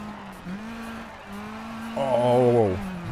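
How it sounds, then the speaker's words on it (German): A Ford rally car driven in the racing game DiRT 2: a whining engine tone that rises and falls with gear changes and swells louder and richer near the end. "der Ford fährt sich richtig schön."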